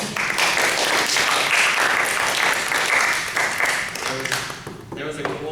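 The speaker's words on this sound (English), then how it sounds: "Clapping." Audience clapping, a dense and loud burst of many hands that carries steadily, then thins and fades near the end as a voice begins to come through.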